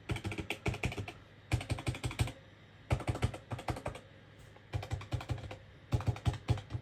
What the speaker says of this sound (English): quick sound check here, keyboard style